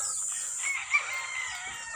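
A fighting rooster crows once, loud and close, its strained call rising and holding before breaking off over a faint background hiss.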